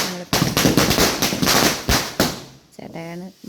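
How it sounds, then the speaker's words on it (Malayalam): A long string of firecrackers (mala padakkam) bursting in a rapid, crackling chain during a Vishu celebration at home in Kerala, loud and dense for several seconds before fading, with voices heard near the end. "ചേട്ടായാണ് മാലപ്പടക്കമൊക്കെ പൊട്ടിച്ചുകൊണ്ടിരിക്കുകയാണ്"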